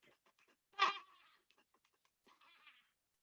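A human voice imitates a goat's bleat with one loud, quavering cry that rises out of near-silence and fades, followed by faint scattered sounds.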